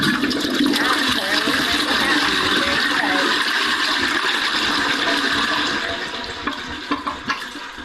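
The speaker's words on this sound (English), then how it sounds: "A toilet flushing." A toilet flushes with a loud, steady rush of water that fills the whole stretch, then fades slightly near the end as the tank refills with a few light gurgles.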